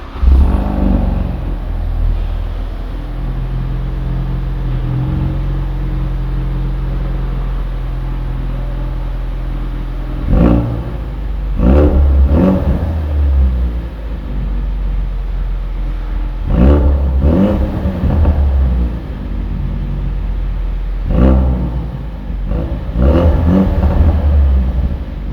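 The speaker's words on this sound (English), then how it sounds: "Let's actually head over to the rear end and see how the car sounds." A Ford Focus RS hot hatch heard from the rear, idling with a deep steady rumble and broken by several loud rev bursts, each rising and falling back to idle.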